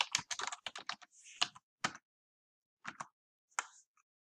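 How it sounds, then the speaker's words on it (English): Keys clatter on a computer keyboard as a poem's final draft is typed into a text box: quick irregular bursts of close, crisp keystrokes, then a long pause and a few scattered taps, with no talking. "I simply start typing what I already had in my rough draft"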